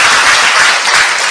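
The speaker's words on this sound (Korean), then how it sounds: "이건 박수 치구나" Audience at a patriotic lecture in Daegu breaks into applause, a dense, steady wash of clapping at close range that fills the whole short stretch without a pause.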